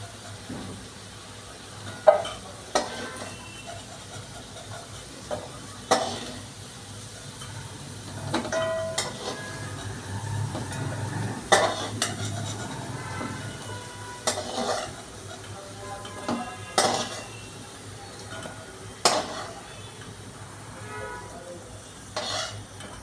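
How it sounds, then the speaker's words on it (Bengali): Potatoes frying in hot oil in a pan give a soft, continuous sizzle, broken by repeated sharp clinks and scrapes of a utensil as they are turned and lifted out. "আলুটা ভাজা ভাজা হয়ে এসছে, আমি বেশি লাল লাল করলাম না"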